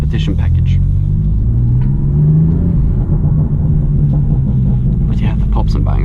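A 2018 BMW M4 Coupé Competition Package with a manual gearbox rumbles loudly from the cabin, its exhaust throbbing low. Sharp pops and crackles burst at the start and again near the end.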